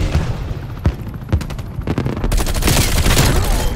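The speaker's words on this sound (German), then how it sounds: "Granate geht raus." Grenade blast and gunfire in Call of Duty Black Ops Cold War multiplayer: sharp separate shots early, then a loud sustained burst of rapid fire and explosion noise filling the final second and a half.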